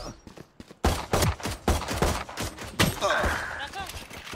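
Rapid bursts of gunfire fill a shooter video game, loud and close, with overlapping rounds and some game sound effects while players speak between the shots.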